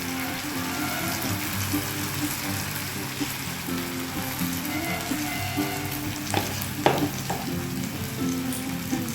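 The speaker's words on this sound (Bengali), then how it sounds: "একদিকটা ভাজা হোক।" A vegetarian Bengali snack batter frying in hot oil in a pan, a continuous crackling sizzle with a few brief utensil clicks, no talking.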